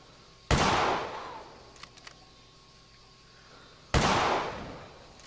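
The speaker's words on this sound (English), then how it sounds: "Took me a little bit more shots than I was wanting to take." Two rifle shots fired at a roe deer in the hunting video game theHunter Classic, each a sharp loud crack with a decaying echo tail, spaced a few seconds apart over quiet ambience.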